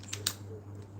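A saltwater fishing reel's free spool engages with two quick, light clicks in close succession, sharp and near in an otherwise quiet room.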